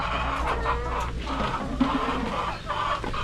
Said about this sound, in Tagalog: Tapos na tayo dito sa aking mga paitloging manok